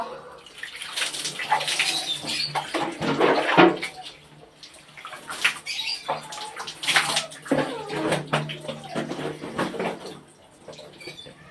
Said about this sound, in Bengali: পাম্প ছেড়ে আবার গা ধুই